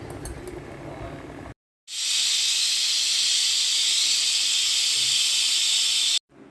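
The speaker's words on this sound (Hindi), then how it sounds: "लगा देंगे प्रेशर कुकर 5 से 6 सीटी के लिए" A loud, sustained hiss of steam rushes out of a pressure cooker whistle for several seconds, steady and close, cutting off abruptly after a brief quiet before it.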